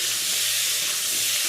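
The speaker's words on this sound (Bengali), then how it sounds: "মা আলু সিদ্ধ করে রেখেছিল, তো এখন আমি ভাজছি" Boiled potatoes fry in a pan with a constant, loud, even sizzling hiss that stays close and unbroken throughout.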